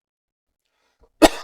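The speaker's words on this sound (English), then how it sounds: "I tried to cough into my coffee." A single short cough, tried into a cup of coffee, bursts out abruptly after a second of near silence, close and sharp.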